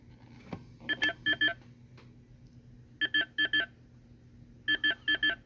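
Electronic detecting sound from a Ghostbusters K.U.D. meter prop: clusters of quick, bright beeps in groups of two to four, with short gaps between bursts, loud and close over a faint electronic hum.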